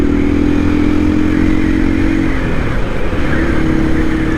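A 2024 KTM EXC-F 500 Six Days dual sport motorcycle rides along a road, its engine a steady, close drone with low mechanical clatter and a slight dip in pitch partway through.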